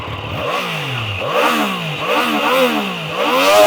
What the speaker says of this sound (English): I was going to let you hear the engine and how it sounds like